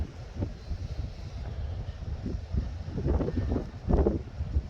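Wind blows across the microphone on Town Quay pier in Southampton during shore fishing, a low, rumbling buffeting that surges and swells throughout, loud and close, with no clear voices.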